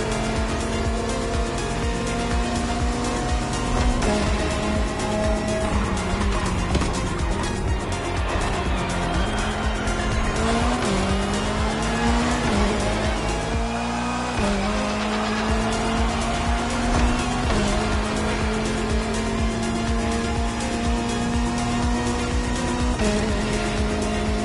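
Race cars roar through a five-lap touring race in The Crew Motorfest, engines revving and shifting continuously with occasional tire squeal, loud and sustained throughout.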